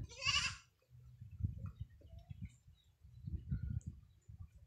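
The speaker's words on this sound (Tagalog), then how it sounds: "Si Bibi Kambing oh." A goat bleats loudly and briefly at the start, then low rumbling and shuffling noises continue through the rest.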